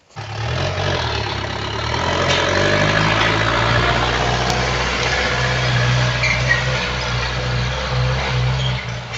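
A machine engine ploughs over a long-rested garden plot, running as a steady, loud low drone with a constant rumble throughout and no speech.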